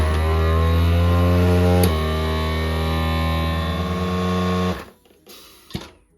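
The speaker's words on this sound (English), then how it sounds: "What it's going to do is going to make a lot of noise as it sucks out all the air." A vacuum jar sealer drawing air out of a food-storage jar hums loudly with a steady motor whine, which shifts pitch partway and then cuts off, leaving near-quiet with a faint click.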